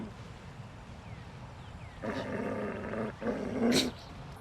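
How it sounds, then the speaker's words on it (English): A dog's growling bark from a finisher in the Warzone video game, two rough, throaty growl bursts rising out of low game background noise, moderately loud and close, with no talking. "you'll get a bark from Merlin."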